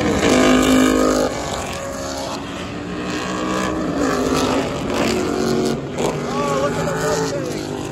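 Vintage race cars, a Corvette among them, roar past at Laguna Seca Raceway during a motorsports reunion, with engine notes rising and falling as they pass, heard under nearby spectator voices.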